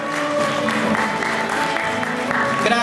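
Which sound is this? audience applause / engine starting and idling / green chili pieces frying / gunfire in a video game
audience applause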